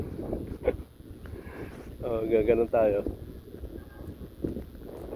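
Gusty wind rumbling against the microphone in a fertilized crop field while someone speaks briefly in Filipino in the middle.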